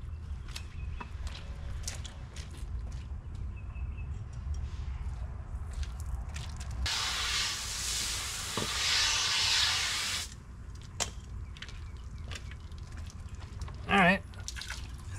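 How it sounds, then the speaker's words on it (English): A water hose rinsing a hydrodipped skateboard, a steady hiss of spray lasting a few seconds amid quieter handling noises, with a voice heard nearby. "Let's rinse it off."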